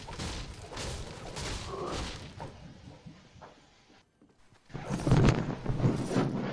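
Gunfire in the video game Fortnite, a sharp burst of shots in the opening seconds heard under continuous game ambience, followed by a brief near-silent gap and then another loud, dense stretch of game noise.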